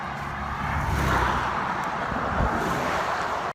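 Cars rush past on a highway beside a runner, a broad steady roar that swells and fades as each vehicle goes by, fairly close with no talking.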